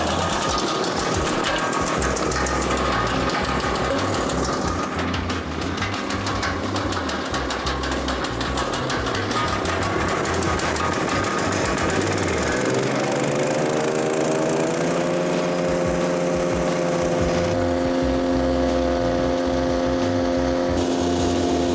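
A Power King 5-inch wood chipper's engine runs loud and close without pause, a steady mechanical drone that shifts pitch partway through and settles into a higher, steadier hum toward the end, with no one speaking.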